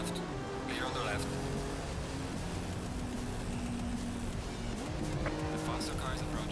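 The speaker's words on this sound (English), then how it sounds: "The faster car is approaching." Race cars in a sim racing game at Oulton Park in simM2 cars, engines droning steadily and loud throughout with a faster car closing from behind, tire squeal mixed in, and a radio spotter voice talking over it.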